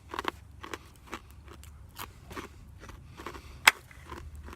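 Fried pork cracklins seasoned with salt and a hint of hickory smoke crunch in a string of crisp, close bites with chewing between them, plus one sharp louder crackle near the end and no talking.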